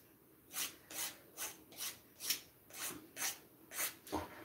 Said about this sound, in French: vous avez l'ongle qui est quand même un petit peu poli